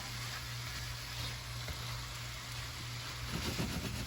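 Sausage, onions and peppers stirred in a pan over a gas flame, giving a steady close sizzle with a low hum underneath and a few louder scraping bursts near the end.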